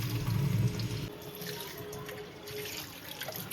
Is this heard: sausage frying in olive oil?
no